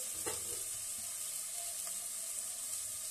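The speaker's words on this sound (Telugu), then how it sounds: "ఆయిల్ ఉడకాలి కదా ఆనియన్ ఫ్రై అవ్వాలి అలాగే చికెన్ కూడా ఫ్రై అవ్వాలి ఆయిల్లో" Onion and chicken frying in oil for village-style chicken pulav make a faint, continuous hiss of sizzling with a couple of soft stirring knocks.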